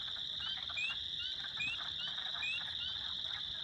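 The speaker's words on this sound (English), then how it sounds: "Here's what the peepers sound like." A dense chorus of tiny spring peeper frogs calls at night, a steady high-pitched ringing drone with overlapping short rising peeps sounding repeatedly throughout, loud and continuous with no voices.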